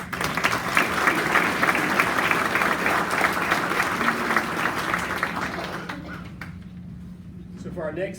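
An audience at an April awards ceremony claps loudly and steadily for a recognized honoree for about six seconds, then the clapping thins out and stops, and a voice speaks near the end.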